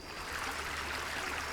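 Itaqueri stream flowing through gallery forest at the Itirapina ecological station, a soft continuous wash of running water, fairly faint and steady with no speech.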